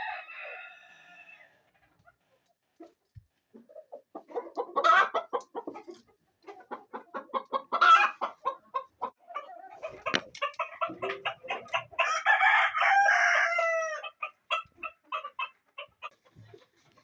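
Hens cluck in bursts inside a coop fitted with nest boxes, and a rooster crows once. The sounds are loud and close and run on for most of the stretch without any talk.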